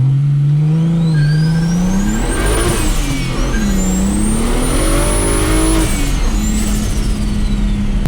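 A car with a welded differential launches hard from a dig, its engine revving loud and close with a rising, falling whine as it climbs through the gears, with no speech.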